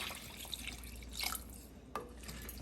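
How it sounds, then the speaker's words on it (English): Room-temperature water pours steadily into a pot for cooking rice, a continuous soft splashing stream with a couple of faint clinks, heard close up. "Now add 4 cups of room temperature water."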